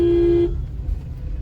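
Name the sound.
car horn honking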